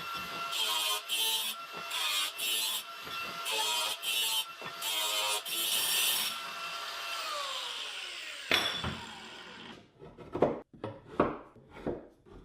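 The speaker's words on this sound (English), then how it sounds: "hold the angle grinder at a slight angle to take off those burrs" Angle grinder deburring the cut end of EMT steel conduit for a lumber rack, the piece rolled under a hand: a steady loud grinding whine broken by short gaps, ending in a run of sharper scraping bursts.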